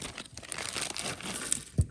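Small plastic bag crinkling close up while tiny rhinestones and a pearl are bagged, a soft continuous rustle with a brief sharper rattle near the end.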